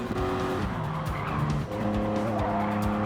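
Tires squeal and skid on a race car in a Gran Turismo 7 custom cup race, likely the Toyota Sports 800, with sustained tire screeching layered over a close, revving engine and no voices.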